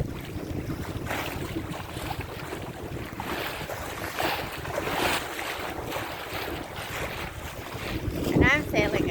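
A sailboat under way in the Bay of Saint-Pierre, Martinique, with steady wind buffeting the microphone and water washing along the hull throughout, the gusts swelling louder near the end.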